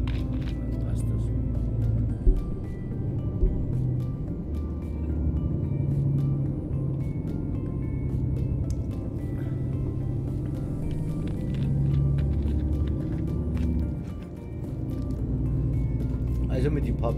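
A small truck in Euro Truck Simulator 2 strains with a low, steady engine drone that rises and falls while someone talks over it.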